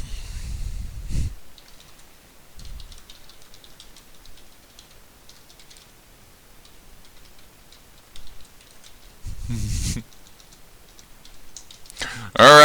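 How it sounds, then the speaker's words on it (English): Quiet typing on a computer keyboard, with soft, irregular clicks running through the stretch, interrupted by a few bursts of speech at the start, around ten seconds and at the end. "I am just typing here something on Steam to somebody"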